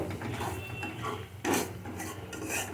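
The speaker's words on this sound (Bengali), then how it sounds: "আমি মিডিয়াম টুকরো রেখে আমি আস্তে আস্তে মশলাটা কষিয়ে নিচ্ছি" Spice paste is stirred and sautéed in a pan over a medium-low flame, with soft scraping and rubbing strokes over a low, steady sizzle. One firmer scrape stands out midway.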